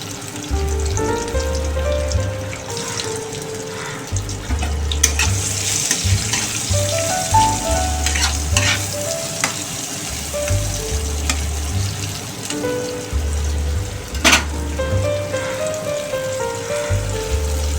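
Onions frying in a pan with a pinch of sugar tempered in oil, as the start of a crab and potato curry. A steady loud sizzle runs throughout, broken by occasional stirring clatter and utensil knocks.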